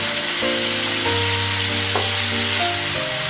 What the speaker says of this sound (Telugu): కొద్దిగా పాలు వేయాలండి పాలు వేసేసి అంతా ఇలా మిక్స్ చేసేయండి